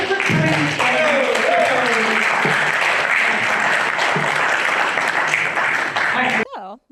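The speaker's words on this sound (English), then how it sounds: "But a huge round of applause" A large conference audience breaks into a sustained round of applause for a departing speaker, dense and steady for several seconds before cutting off, with some voices mixed in near the start.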